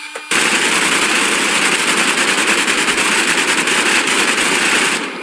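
A video game minigun fires one unbroken, loud, dense stream of rapid shots for about five seconds, starting abruptly and cutting off near the end.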